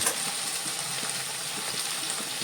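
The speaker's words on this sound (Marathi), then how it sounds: "हे 1 लिटर पाणी उकळतं मी इथे उकळायला ठेवलं होतं ते घालतोय." Boiled water poured into a hot pan of Mangalore-Udupi style sambar, giving a steady, close sizzling hiss that runs unbroken for a couple of seconds with no talk.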